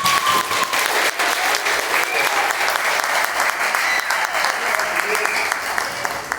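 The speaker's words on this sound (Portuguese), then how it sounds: "As crianças querem aplaudir o Senhor Jesus" A church congregation bursts into sustained, dense applause, loud and continuous, with voices faintly mixed in throughout.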